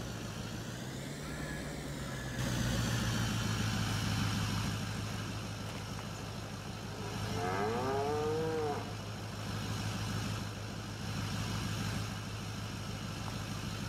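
Cows in the video game Farming Simulator 22 moo in long, low, drawn-out calls, one near the start and another in the middle. A steady engine drone runs underneath throughout.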